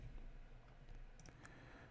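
Loud mouse clicks from a player during a Pauper TRON Cascade card game, a few sharp clicks near the microphone over a steady low hum, with no one talking.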